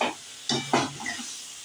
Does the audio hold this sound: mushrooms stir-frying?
yes